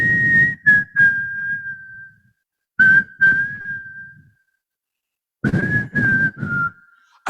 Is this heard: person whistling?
yes